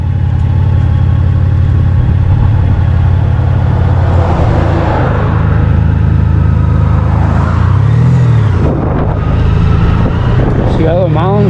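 Car engine humming steadily while the vehicle makes a U-turn at a campground in Circleville, Utah, a loud, close drone under a talking voice, with tire and road rumble rising and shifting partway through.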